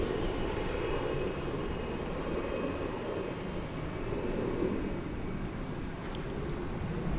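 An Alaska Airlines jet at DFW International Airport produces a steady, broad engine roar that holds evenly throughout, continuous and fairly distant, with no talk over it.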